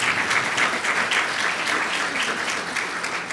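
A conference audience at a forest biobased materials event gives steady, even applause, many hands clapping together at close range for several seconds with no speech over it.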